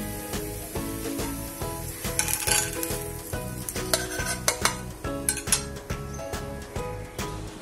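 Tomato omelette cooking in a pan on lowered heat, a bright continuous sizzle with metallic clinks and scrapes of a utensil against the pan, close by with no voices.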